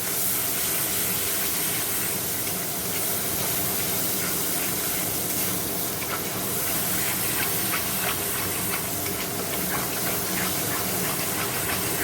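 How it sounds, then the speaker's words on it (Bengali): Spices with salt and turmeric frying in hot oil give a steady, dense sizzling hiss that runs throughout without pause, with faint crackles near and no talk. "তো মশলাটা দিয়ে দেবো, নুন, হলুদ, নুন হলুদ মিষ্টি দিয়ে মশলাটা এবার একটু কষে নেবো।"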